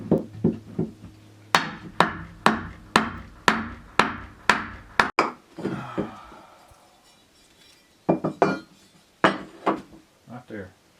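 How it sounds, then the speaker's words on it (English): A straight claw framing hammer strikes wood in a quick, steady run of about a dozen sharp blows, then a pause, a few more hits, and brief talk. "I like a straight claw hammer"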